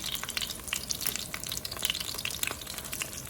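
A Korean pancake fries in a hot pan with a steady, close crackling sizzle and scattered sharp pops, with no voices over it.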